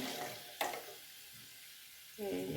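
Pitha fry in oil with a brief, moderately loud sizzle, a sharp clatter near the start and a swell of bubbling toward the end.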